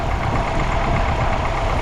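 A YuMZ 4x4 tractor engine labouring while ploughing a field, a steady, loud, low diesel drone running continuously and close by with no voices.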